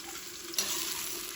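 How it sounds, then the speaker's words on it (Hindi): Bitter gourd (karela) pieces frying in oil on high heat, a steady close hiss and sizzle with a brief crackle partway through. "अब तेज़ आंच पे हमने इनको फ्राई करना है।"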